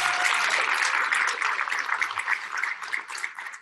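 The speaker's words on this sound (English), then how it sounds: "Give Joey a round of applause" An audience at a touring live event in Dallas claps, a dense wash of applause that starts strong and then thins and tapers off over a few seconds.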